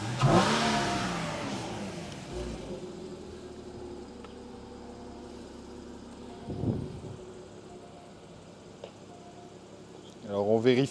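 A Porsche Cayman engine turns the rear wheels on dyno rollers, with a brief rev at the start and then a low, steady run. Further revs come near the end, and someone talks throughout.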